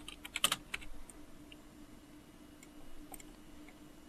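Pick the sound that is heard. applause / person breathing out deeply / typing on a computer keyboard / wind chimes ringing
typing on a computer keyboard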